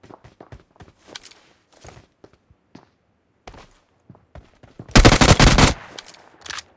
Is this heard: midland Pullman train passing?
no